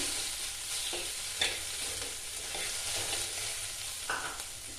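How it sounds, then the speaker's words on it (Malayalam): Stingray masala with tamarind being stirred in a frying pan, a steady close sizzle broken by a few soft scraping strokes of the spoon. "ഇട്ട് കൊടുത്ത് നല്ലതുപോലെ ഒന്ന് ഇളക്കി"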